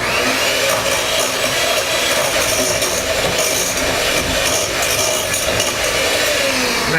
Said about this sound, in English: you're using a handheld electric beater because, or that's Julia speak, a handheld electric mixer